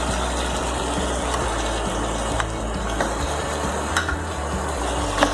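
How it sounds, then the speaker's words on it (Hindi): Tomatoes tumble into a pan of frying cucumber sabzi and get stirred, a steady close sizzle with scraping stir strokes and a few soft clicks of the spoon, no voices. "अब हम इसमें टमाटर डाल रहे हैं।"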